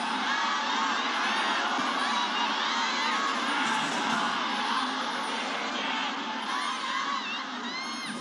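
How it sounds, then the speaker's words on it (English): Loud, continuous roar of a packed esports arena crowd at an LPL League of Legends regional qualifier match, with cheers, whoops and shouting washing over each other throughout, easing slightly toward the end. "You can still see the crowd just as ferocious as ever"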